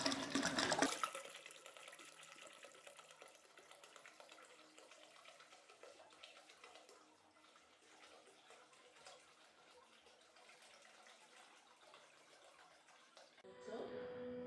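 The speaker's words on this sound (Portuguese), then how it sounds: "Jogar mais devagar aqui para não voar tanta água para fora" Water poured slowly into a vessel while brewing beer at home, an opening splash followed by a soft, steady trickle that fades low and then picks up again at the end, with a person talking now and then.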